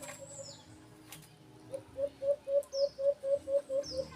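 Training pigeons coo in a rapid, regular series of about nine short throaty pulses, close and clear, with faint chirps from other birds in the background.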